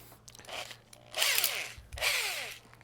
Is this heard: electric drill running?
yes